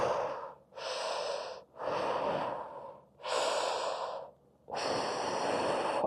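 Deep, slow breaths during a guided hip and shoulder fascial stretch, with about five long inhale-exhale cycles close up, each a full airy rush separated by short pauses.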